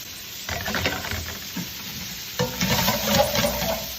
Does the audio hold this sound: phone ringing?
no